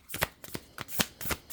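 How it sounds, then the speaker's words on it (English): Tarot cards riffled and shuffled by hand in quick, close bursts of papery flapping, about five or six distinct shuffles with brief gaps between, no talking. "Ooh, my card shuffle is..."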